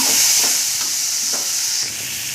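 Onions and garlic are stirred and fried in a pan, giving a loud, close, continuous sizzle with soft scraping strokes from the stirring and no talk.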